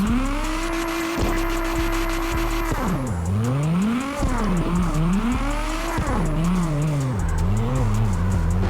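A tuned 1100 hp Nissan R32 drift car in CarX Drift Racing screams at high revs, holding steady before the pitch swoops up and down through drifts, with loud tire squeal and skidding, close and constant.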